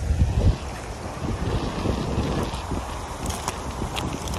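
Steady wind rushing and buffeting across the microphone outdoors on a beach during a typhoon in Japan, with a low continuous roar and no talking.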